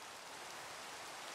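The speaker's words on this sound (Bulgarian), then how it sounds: "Сериозно ли, почва сега да вали." Steady rain hiss in a Minecraft world, an even, unbroken wash of falling drops with no voices.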